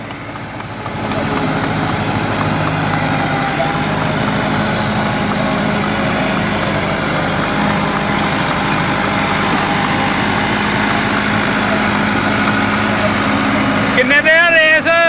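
An ATS 290 tractor engine runs steadily in third gear, pulling a rotavator, with a dense, continuous mechanical drone. The sound stays loud and even throughout, with a brief change in tone near the end.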